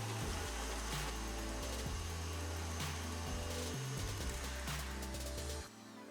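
Electric stand mixer beating a half cup of unsalted butter at high speed, a steady loud motor whir with a low churning drone that holds for several seconds before easing slightly at the end, with no talking.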